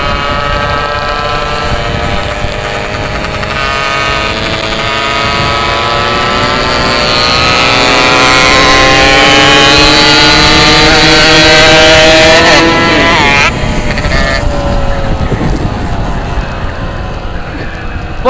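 A Yamaha RX King two-stroke motorcycle is revved hard, its loud buzzing whine climbing steadily in pitch for several seconds before abruptly dropping off, then droning on close by.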